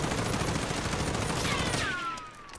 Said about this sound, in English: without pressing any other buttons except the shoot button, I just shoot straight forward